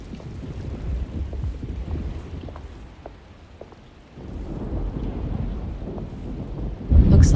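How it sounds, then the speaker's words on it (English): Stormy weather in the 2024 Alone in the Dark game: a steady wash of rain with low thunder rumbles, a brief lull midway, then rising again and ending in a loud, close thunderclap. "Looks like a storm's coming."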